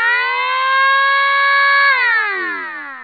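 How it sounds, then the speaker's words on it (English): A Hootronic electronic sounder emits a medium frequency siren tone, a loud steady harmonic wail that holds its pitch for about two seconds, then sweeps downward and fades, with no voices. "Tone 3, the medium frequency siren for stage 2,"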